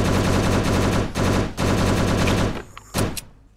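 Rapid automatic gunfire in the zombie survival game Last Hope Bunker: loud, close bursts of rattling shots, broken by two brief pauses, that cut off near the end and leave a couple of sharp clicks and fading echoes.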